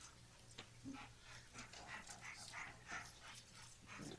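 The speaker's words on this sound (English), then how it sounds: "Heavy breather." An American Staffordshire mix dog pants heavily and rapidly, close by in a quiet council chamber, with steady breathy bursts over a faint low hum.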